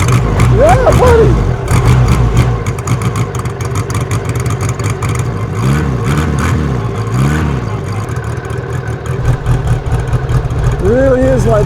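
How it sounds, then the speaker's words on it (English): Ariel Square Four four-cylinder motorcycle on the move, a smooth, continuous low exhaust rumble with slight revving swells, heard loud and close beneath someone talking throughout. "Smooth, really unique exhaust note. The four-cylinder that rumbles more like it's a V."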